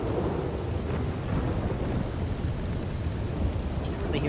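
Heavy rain and rolling thunder in the video game Red Dead Redemption 2, a steady dense downpour with a low rumble underneath, loud and continuous throughout with no speech.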